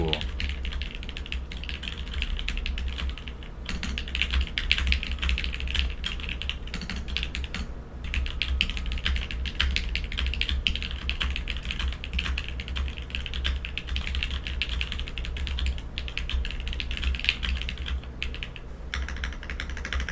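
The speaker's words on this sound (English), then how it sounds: "I think the switches, the alpacas sound great in the Voice 65." Continuous rapid typing on a custom Voice 65 mechanical keyboard fitted with Alpaca Linear V2 switches, with close, crisp keystrokes clattering in a steady stream and brief pauses between bursts.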